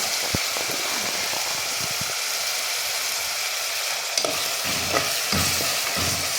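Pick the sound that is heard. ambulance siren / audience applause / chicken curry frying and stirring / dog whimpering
chicken curry frying and stirring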